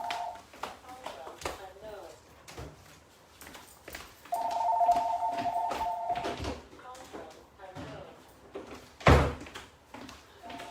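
An indoor telephone rings in steady electronic trills, one short burst at the start and a longer one in the middle, with talking throughout and a sharp knock or thud near the end.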